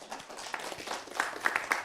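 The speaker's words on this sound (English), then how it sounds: "So round of applause and welcome to the students there at St. Edward" An audience gives quiet, scattered applause to welcome students from St. Edward at an Anishinaabe Giizhigad gathering. The uneven clapping stays faint throughout and swells slightly near the end.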